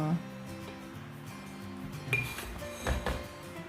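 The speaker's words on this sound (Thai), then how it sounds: "คนให้เข้ากัน" A spoon stirs instant coffee with hot water in a 16-ounce glass for a frappe, clinking against the sides in a few sharp, ringing taps amid a soft scraping swirl.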